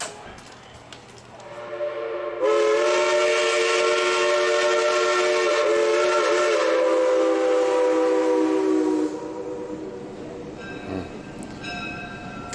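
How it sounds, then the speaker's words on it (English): A Western Maryland steam locomotive, the Big Six, sounds a long, loud harmonic whistle blast for about six seconds over low rumble, followed by quieter shorter toots near the end. "The whistle brings back memories."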